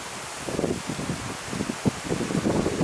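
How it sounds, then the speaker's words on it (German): Gusty wind on a hilltop on a rainy hike, a steady broadband rush with irregular low buffeting bursts against the microphone, fairly loud and continuous with no voices. "Es ist ziemlich windig hier oben."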